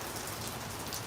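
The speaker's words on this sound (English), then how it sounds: "This rain is crazy." Heavy rain pours down hard onto surfaces outdoors, a steady dense hiss of drops that stays even across a brief moment, with no speech over it.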